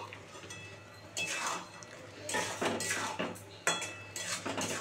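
Fried pointed gourd pieces tipped into a pan of prawn masala, with metal utensil clinks and scraping against the pan in a few bursts, fairly close, over a steady low hum.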